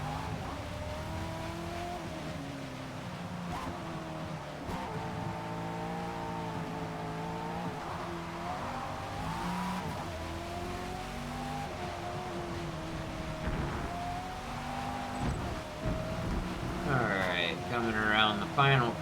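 Race car engine in Forza Motorsport at Catalunya, a Group C car rounding the final corner, droning steadily with rising and falling revs and a brief tire squeal near the end, under continuous talk.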